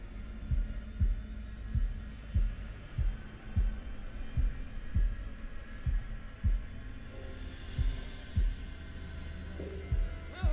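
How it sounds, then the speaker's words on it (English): Heartbeat sound effect from the video game Man of Medan: a slow, steady run of deep thumping beats, roughly one per second, over a low hum, with no talking. "What kind of maniacs can control their heartbeats like that?"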